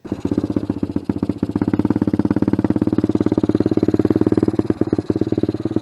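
An Icebear Champion motorbike fitted with a 17-tooth sprocket putters around a yard, its engine throbbing in a steady low, fast pulse at moderate revs, loud and close, with no talking.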